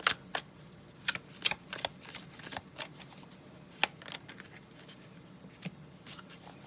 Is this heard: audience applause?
no